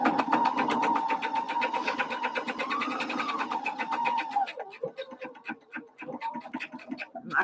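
A sewing machine runs fast with a rapid, even clatter while stitching a bucket hat, then slows into choppier, uneven stitching as it reverses to lock the seam.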